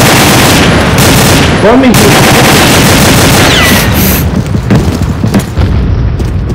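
Gunfire rings out in a video game shooting match: a heavy boom followed by bursts of rapid shots and scattered single cracks, loud and close, with players talking briefly over the action.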